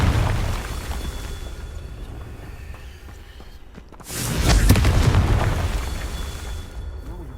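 In Hogwarts Legacy, a Confringo blasting spell strikes a wall and sets off a loud, booming explosion around four seconds in, rumbling close and then settling into a lingering roar over ambient game sound.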